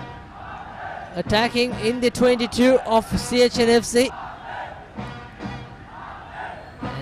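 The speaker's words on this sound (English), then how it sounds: "you can see a loud cheer of the soldiers saying Army" Soldiers in the crowd at an Army SC versus CH & FC rugby match roar out a rhythmic chant of loud, repeated cheers, swelling over a commentator's voice before fading back to crowd murmur.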